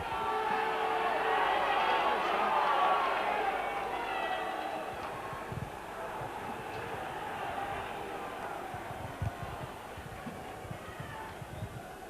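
A rugby league crowd roars and chants at the Yorkshire Cup final between Sheffield and Wakefield Trinity, a broad, sustained wash of distant voices that swells early then settles, with occasional thumps.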